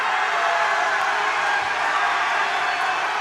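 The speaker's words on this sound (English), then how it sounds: "And the crowd is going nuts" Loud, steady roar of a crowd cheering in a gym during a girls' varsity high school basketball game, a broad continuous wash of voices with no breaks.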